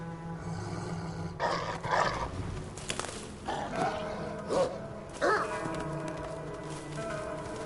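A dog in the video game Assassin's Creed Valhalla on PS4 gives several growls and barks amid game background ambience, mid-distance and moderately loud, with no talk over it.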